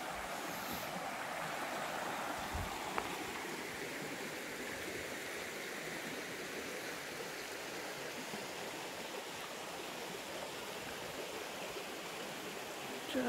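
A creek rushing beneath a bridge along the Pacific Crest Trail in Washington, a dense, steady broadband wash of flowing water that holds constant throughout with no voices.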